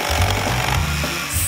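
A saw cuts wooden boards for a bed frame, a loud, harsh, continuous rasping grind that holds steady for a second and a half.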